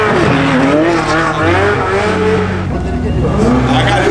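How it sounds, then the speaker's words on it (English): Several loud performance cars, including a 2022 BMW M4 Competition, rumble and rev with throaty exhaust as they drive by, engine notes rising and falling continuously, with some voices faintly underneath. "These cars seem so much louder than my car."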